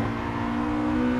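A Honda Integra Type R DC2 engine holds at high revs near 6000 rpm, where valve timing switches, with a loud, steady, droning whine that climbs slightly in pitch, close and unbroken.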